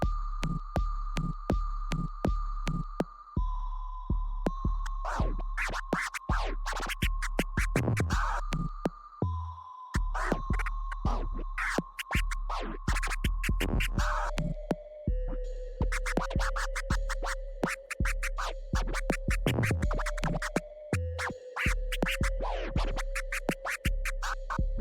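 DJ scratching on a Pioneer DDJ-SX3 fitted with a Mini Innofader Plus crossfader, with fast rhythmic cuts and chirps over a steady tone that drops in pitch in steps, loud and continuous for about twenty-five seconds, with no talking.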